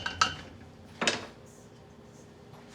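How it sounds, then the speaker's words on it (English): Demerara sugar stirred into a pot of red cabbage, with two quick spoon knocks against the pot over quiet background and no talk. "Just stir that, get everything mixed up."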